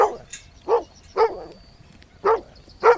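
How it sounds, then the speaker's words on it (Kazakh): A domestic dog barks in four or five short, separate yips spaced unevenly, each bright and fairly close, with faint background between them. "ит"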